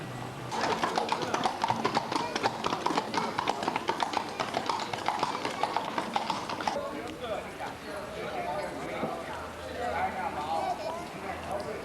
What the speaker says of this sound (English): Always horses, wherever you go with the Miller family.